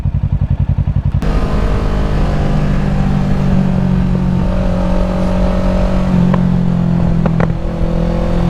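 Kawasaki Ninja 650 motorcycle engine, loud and close, starting with a rapid pulsing idle, then a steady throttle-held drone with brief rises and dips, plus faint traffic noise during a homecoming group ride.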